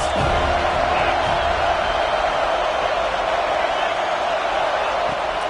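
A football stadium crowd roars on a big third down, a dense, continuous wash of cheering and noise that stays loud and steady throughout.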